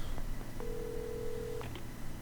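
Telephone dialing in the video game Alan Wake, a single sustained tone about a second long over low background hum, with faint clicks before and after.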